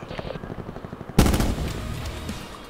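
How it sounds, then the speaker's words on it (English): Automatic gunfire in the Black Ops 4 Blackout battle royale: light distant rattling bursts first, then a sudden loud, close volley of rapid machine-gun shots that rings on for over a second with no talk. "I hear gunshots everywhere"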